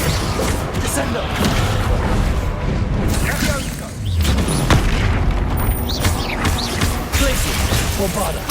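A Bombarda spell explosion in the video game Hogwarts Legacy: loud booming blasts and crashes over a dense, continuous layer of game effects and music, with a voice calling out spell names.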